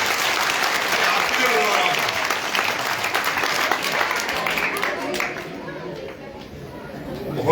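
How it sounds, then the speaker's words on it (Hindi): A crowd at a Taranagar MLA's function applauds for the children, loud continuous clapping mixed with chatter, easing slightly toward the end. "इनके लिए ताली बजा दो एक बार बच्चों के लिए।"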